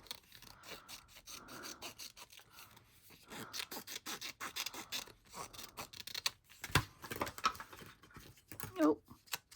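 Scissors snip and trim a paper embellishment for a spring journal, soft close rasping cuts and rustling paper in irregular bursts, quiet and near.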